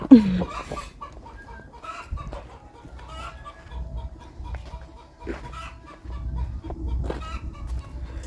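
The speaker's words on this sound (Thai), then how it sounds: "เสียงไก่กระตาเลยเด้อพ่อแม่พี่น้องเลยเนาะเพราะว่า ไก่จะไข่" A hen cackles and clucks in repeated bursts before laying an egg on a rural Thai homestead, moderately close over low background noise.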